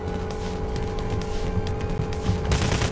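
Rapid automatic gunfire in the heist video game Payday The Heist, bursts of sharp shots crackling over a constant background hum, with a louder cluster of shots near the end.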